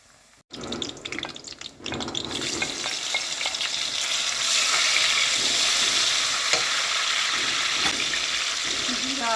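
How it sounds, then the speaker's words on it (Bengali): An egg and lentil omelette sizzles in a pan with oil, starting with a few clatters before a loud, continuous frying hiss settles in and holds steady. "ও পিঠ ভাজা হচ্ছে এখন"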